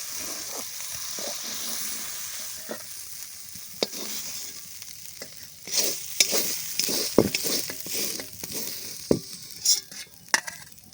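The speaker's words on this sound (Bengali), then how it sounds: "প্রথমে আমি সিদ্ধ করে নিয়েছি তারপর তেল দিয়ে ভেজে নিলাম" Boiled leta fish frying in oil in a village Bengali kitchen, a soft sizzle broken by sharp spatula scrapes and clacks against the pan that grow busier and louder toward the end.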